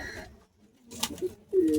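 Pigeons offered for sale give a few soft, close coos in a short burst, ending in a louder low coo.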